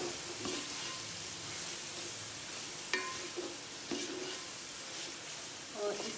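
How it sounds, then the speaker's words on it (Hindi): Peppers fry in a pan for chicken fried rice, a steady loud sizzle broken by a few clanking scrapes as they are stirred. "पहले मैंने ये वाली मिर्च डाली है और इसको मिक्स करेंगे अच्छी तरह।"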